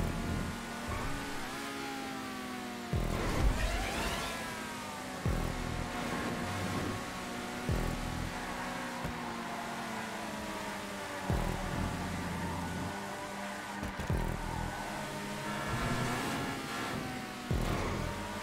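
Race car in GTA V on PS4 sliding sideways through corners, with an engine droning and revving in waves, tires skidding and brief crunching impacts throughout.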